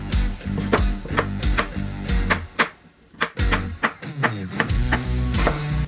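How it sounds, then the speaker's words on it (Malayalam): Knife chopping roasted coconut into small pieces on a board for a beef pepper roast, a steady run of close, sharp taps with brief pauses and no talk. "ഇനി നമുക്കിത് ചെറുതായിട്ടൊന്ന് അരിഞ്ഞരിഞ്ഞ് ചെറിയ പീസാക്കി വെക്കാം"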